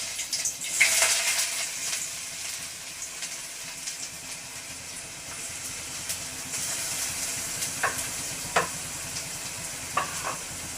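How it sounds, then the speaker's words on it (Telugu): Chopped onions frying in hot oil for Maggi noodles, a quiet hissing sizzle with occasional spatula scrapes and clinks, close by and without voices. "ఫస్ట్ నూనె వేసి మరిగిన తర్వాత ఉల్లిపాయలు వేసుకున్నాను"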